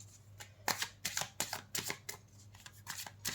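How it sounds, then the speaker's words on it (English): An oracle card deck being shuffled and drawn from, giving a run of soft papery riffling bursts and flicks spaced unevenly through the clip, close and moderately loud with no talk. "We'll pull one last card from the Soul Contract card deck."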